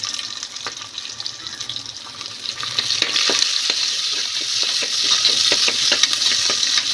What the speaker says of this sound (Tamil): சின்ன வெங்காயம் நல்லா வதங்கினதுக்கப்புறம்